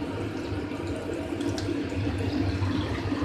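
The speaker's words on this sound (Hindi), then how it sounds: "पोहे के ऊपर पानी डालते हैं" Water is poured over poha, flattened rice, to rinse it, giving a steady, close splashing and trickling wash that runs throughout without talk.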